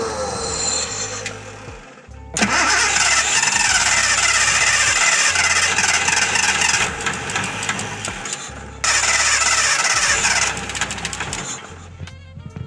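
A Datsun 280Z cranks repeatedly without catching, the starter grinding in two long loud bursts separated by a brief pause, with a steady rhythmic churn underneath and no voices.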